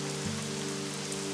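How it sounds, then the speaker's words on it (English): Steady rain falling on a surface, a soft continuous hiss with a low hum underneath, heard alone without voices for a brief moment. "so she made it rain"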